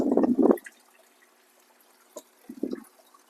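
Water drains back into the sump of a 1300-gallon plywood aquarium. Two short gurgling, splashing bursts are separated by a quiet stretch with faint trickling, and the sound is soft and close.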